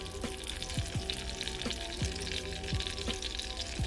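Chicken pieces sear skin side down in a hot pan, giving a steady sizzle with intermittent sharp pops and spatters close up, and no talking.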